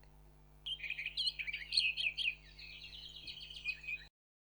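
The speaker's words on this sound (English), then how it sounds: "birds chirping." Small birds chirp and tweet in a quick, clear run of calls that starts after a short pause and stops abruptly, alone over a faint steady hum.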